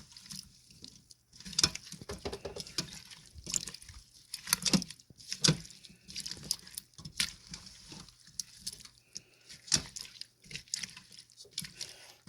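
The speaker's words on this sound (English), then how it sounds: "I'm just going to stir in the spices." A spoon stirring spices into a pan of potatoes, peas, carrots and mushrooms with vegetable stock makes quiet, irregular wet scrapes and soft taps, faint and close, with pauses between strokes.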